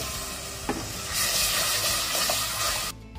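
Milk poured into a flour roux frying in oil sets off a steady sizzle that swells into a brighter, louder hiss partway through, then cuts back sharply near the end.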